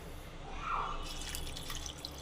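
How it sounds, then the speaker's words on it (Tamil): Water poured onto grated coconut for a second grinding to make coconut milk, a brief soft splash and trickle with a faint drip, quiet and close, no talking. "தண்ணி ஊற்றி"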